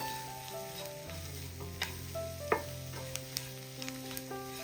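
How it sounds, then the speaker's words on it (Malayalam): Chili powder sizzles gently in hot oil in a pan while it is stirred, with soft scraping and small clicks over a steady, fairly quiet fry and no talk. "വെറും മുളക് പൊടി മാത്രമാണ് ചേർത്ത് കൊടുക്കുന്നത് ജസ്റ്റ് ഒന്ന് ഇളക്കി കൊടുക്കാം"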